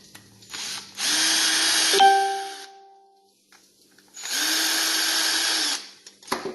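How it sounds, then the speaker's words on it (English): A power drill runs twice, backing out screws from a garbage disposer mounting ring under a sink, each burst lasting over a second with a winding-down whine between them and a few small clicks at the end. "So we're going to unscrew these ones."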